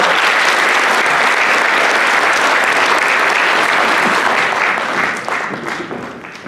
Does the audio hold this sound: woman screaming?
no